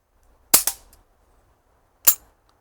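A sharp gunshot from a Marksman Repeater rifle cracks out, followed shortly by a faint impact knock on the target, then a second shot a moment later, in otherwise quiet surroundings.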